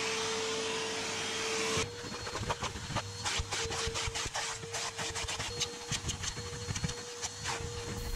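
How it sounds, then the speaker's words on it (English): A vacuum cleaner works over thick, plush Rolls-Royce carpets during car detailing: a steady, close whine with a sustained tone, louder at the start, then a rougher, fluctuating suction as the nozzle scrubs the fibers. "These Rolls Royce carpets are very thick and plush, very luxurious, but needs a lot of time to vacuum"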